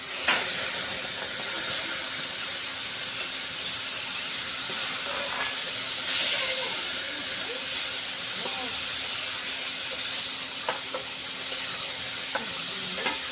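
Onion and garlic sizzle in hot oil for a katla fish kalia, a steady, loud, hissing fry that runs continuously, close up, with occasional light stirring clicks and faint speech beneath.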